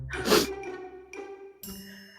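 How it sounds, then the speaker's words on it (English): A person sneezes once loudly and close to the mic, with a quieter follow-up sound a second later and a brief vocal noise at the end. "I feel like there's one more sneeze."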